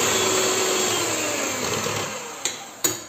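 An electric mixer whirs steadily while beating three eggs with 150 g of sugar until pale, a constant close buzzing with two sharp knocks near the end.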